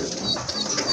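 Pigeons coo in a loose murmur alongside bright chirpy sounds, close by and fairly steady throughout.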